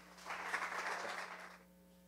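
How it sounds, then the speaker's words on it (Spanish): An audience claps together for a man from a church's pastoral leadership team, a soft, steady burst of applause lasting about a second and a half before fading, with a low constant hum beneath. "Damos un aplauso a Daniel."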